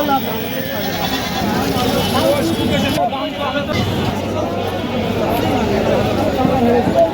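Several goats bleat over a busy goat market crowd, with a steady babble of voices and chatter throughout, fairly loud and close.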